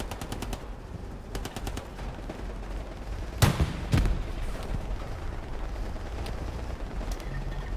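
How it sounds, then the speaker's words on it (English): Long-range rocket fire in a video game battle: a sharp blast followed by a second impact, set against a background of repeated rapid gunfire bursts at moderate distance. "Long-range rocket there from Mac."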